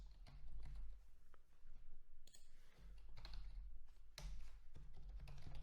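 A password is typed on a computer keyboard as a quiet, uneven run of key taps over a low steady hum.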